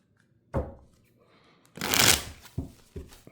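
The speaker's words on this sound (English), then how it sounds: "So I'll give these a quick shuffle." A new, glossy deck of tarot cards being shuffled: a quick riffle burst, then a longer loud riffle, followed by a few soft taps as the cards settle, close up with no talk.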